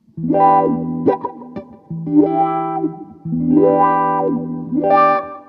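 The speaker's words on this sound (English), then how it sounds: "So that is my Wahcko Wah by Jam Pedals." Electric guitar phrases swept through a Jam Pedals Wahcko wah pedal, notes sliding and vowel-like as the tone opens and closes, played loud and close with short pauses.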